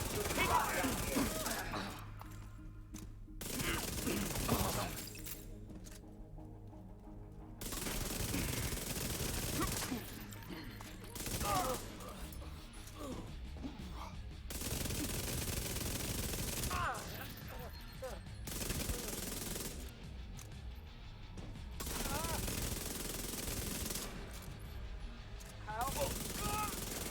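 Gunfire in the video game The Division 2, with bursts of automatic and sub-machine gun fire and heavy shots in clustered volleys separated by short lulls, mixed with game sound effects, a voice talking at times.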